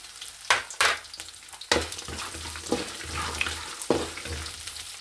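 Garlic and chana dal fry in a pan, with soft sizzling under repeated spoon scrapes and stirring knocks, close and moderately loud.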